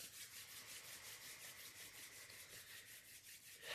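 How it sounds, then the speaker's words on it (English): Palms rubbed briskly together in a steady, soft, rhythmic swishing friction, quiet and close, with no talk, growing slightly louder at the very end. "So rub your palms briskly, deep in the breath."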